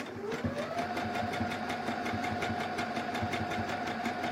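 A new sewing machine runs continuously at a steady speed, producing a rapid mechanical rhythmic chatter with a humming motor tone that rises briefly in pitch at the start, then holds steady.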